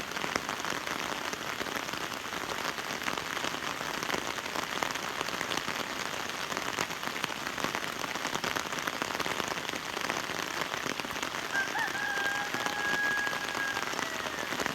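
Heavy rain pours steadily in rural southern Laos during a storm, a dense, constant hiss of drops on surfaces filling the whole stretch without pause; no voices.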